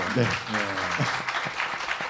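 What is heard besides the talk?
audience applause at a talk concert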